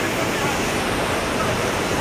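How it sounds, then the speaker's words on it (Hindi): Jogini waterfall near Vashisht in Manali roars as a loud, dense, unbroken rush of falling water heard up close, with no pauses or other sounds standing out. "देखिए वाटरफॉल कैसा लग रहा है"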